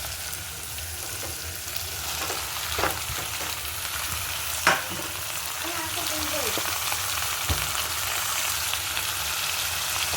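Broad beans and tomatoes fry in a pan, giving a steady close sizzle with occasional stirring scrapes and clinks of a utensil, quiet speech barely present.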